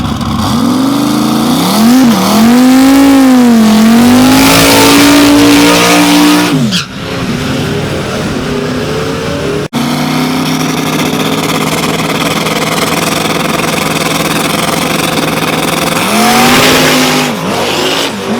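A no-prep drag race car at an Ohio dragway revs hard and launches into a wheelie, its engine roaring very loud and close with rising pitch sweeps, a brief cut, then a sustained howl that climbs again at the end.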